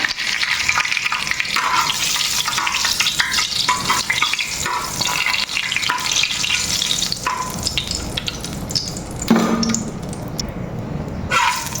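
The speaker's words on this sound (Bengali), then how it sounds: "ফ্রাই প্যানে তেল দিয়ে দিছি তেলটা আমার গরম হয়ে গেছে এখন হলো আমি শুকনো মরিচ দিয়ে দেবো" Dried chilies and bay leaf sizzle and crackle in hot oil in a frying pan, a steady close frying hiss that runs throughout with light stirring.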